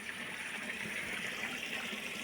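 Water runs steadily into a tank, a continuous splashing rush with no pauses, fairly quiet and close.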